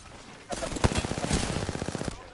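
A rapid burst of automatic gunfire in a video game, loud and close, firing steadily for nearly two seconds after a quiet start.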